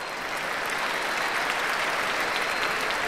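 Dense, enthusiastic applause from a large concert crowd at a grand music show, a steady wash of clapping sustained throughout without letup.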